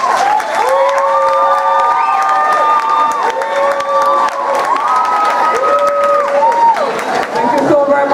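Grade 11 students at a school assembly clap and cheer in a loud, sustained burst, with voices rising and falling over the applause throughout.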